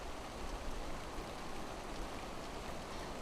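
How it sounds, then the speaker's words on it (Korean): Gentle spring rain falling over a wetland, a soft steady hiss of drops with no talking. "잔잔히 봄비가 내립니다."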